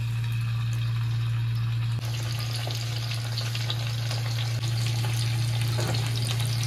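Small cornflour-coated chicken pieces frying in hot oil, a steady close sizzle with a constant low hum underneath and a few light clinks, no speech.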